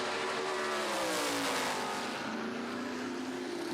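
A Lola F5000 race car engine at Taupo roars loudly and steadily, its pitch sweeping down and back up as it runs at speed, with no talk over it.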